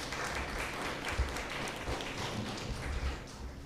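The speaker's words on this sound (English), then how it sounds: "A round of applause for everyone here." An audience in a hall claps together in steady, sustained applause, a dense even patter heard from within the room.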